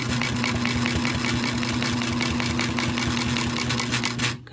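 A Sailrite 111 sewing machine topstitching runs in a steady, fast mechanical rhythm with a constant motor hum, loud and close, then stops abruptly at the end.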